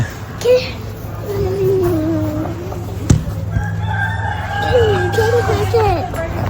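A mean rooster at a stockyard crows twice in long drawn-out calls, close and loud, over a steady engine hum with people talking around it.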